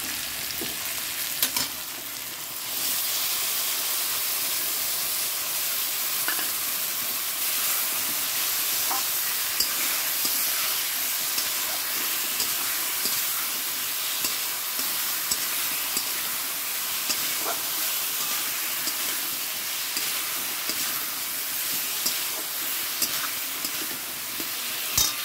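Spice paste with chilli and turmeric frying in a pan with a boiled egg, a steady loud sizzle and hiss after a short quieter start, with occasional faint clicks of stirring.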